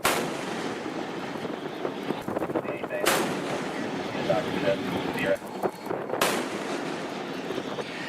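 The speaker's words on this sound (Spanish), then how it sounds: "escuchamos el sonido del disparo de varios proyectiles desde el destructor de Estados Unidos al cuarto de máquinas del portacontenedores iraní" Projectiles fired from a US destroyer at an Iranian container ship's engine room, heard as two sharp, loud reports about three seconds apart over a constant roar of wind and background noise.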